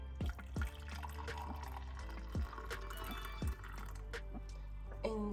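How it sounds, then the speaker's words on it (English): Homemade hair growth drink poured into a cup: a quiet liquid trickle with several small clinks and knocks scattered throughout, close and soft, with no talking. "I will just pour the one that I will be drinking in the cup"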